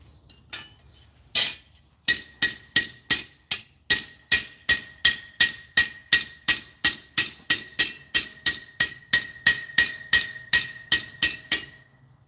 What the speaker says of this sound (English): That's a great thing about a 5-ounce hammer. You can go all day with this thing.